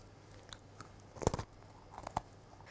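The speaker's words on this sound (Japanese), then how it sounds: "サクサク食感がやみつきになりますよいただきます" Crunchy baked chocolate being bitten and chewed up close, a few crisp crunches in two brief clusters over quiet background.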